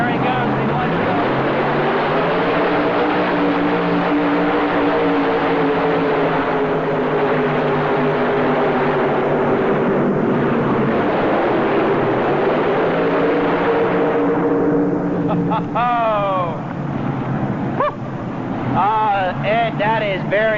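Modified pulling tractor with multiple Chevy engines roaring at full throttle at a 1985 NTPA Indy Super Pull, a loud sustained engine drone across the whole run while an announcer talks over it.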